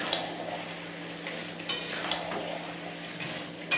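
Goat meat curry with fried potatoes is stirred and sautéed in a pan, a soft steady sizzle broken by a few scraping knocks of the spoon against the pot.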